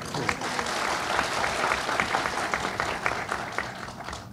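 Steady, dense audience applause fills the whole stretch, broad and sustained at an even level from start to finish, with no voices standing out above it.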